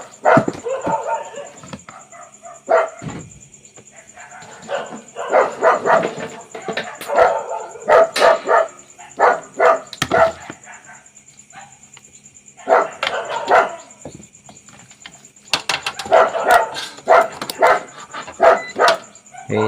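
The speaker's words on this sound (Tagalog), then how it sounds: "sinsya na kayo ang ingay ng mga aso dito" Several dogs barking loudly and repeatedly in bursts, with yips and whimpers between the barks, close by over a steady high electronic whine.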